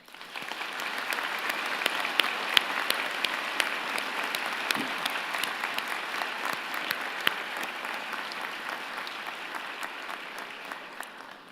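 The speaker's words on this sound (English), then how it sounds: "thanking them with a vigorous round of applause" A large convocation audience for nursing, dentistry, pharmacy and public health graduates gives sustained applause, a broad even roar of many hands lasting over ten seconds, slightly distant, with occasional sharper claps standing out.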